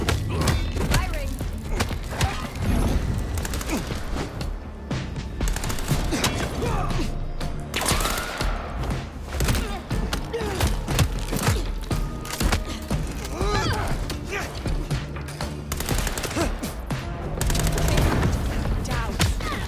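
Gunfire in Vampire: The Masquerade - Bloodlines 2 cracks in dense, repeated bursts over a busy, loud combat mix of thuds and impacts, with voices talking over the action.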